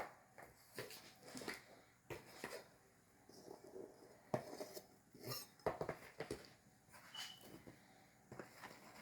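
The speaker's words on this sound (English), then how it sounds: "I whisk and add the second cup." A whisk beats brioche dough ingredients in a bowl, making a quiet, irregular run of clinks and taps against the sides with brief pauses between strokes; no speech.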